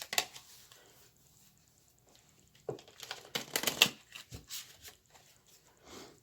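Tarot cards being shuffled by hand, a stiff, hard-to-shuffle deck, giving scattered crisp riffles and papery slaps in short bursts with quiet gaps, close and fairly soft.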